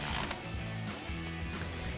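A ratchet driving a 12mm socket to tighten factory bolts during a Rough Country 3.5-inch suspension lift on a Toyota Tundra, quick rapid clicking in short bursts, close and fairly quiet, with no voices.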